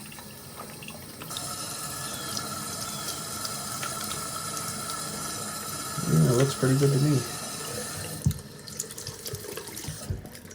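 Tap water runs while paint is rinsed out, a steady hiss with a louder gush of splashing partway through, then a few clinks; a person talks briefly over it.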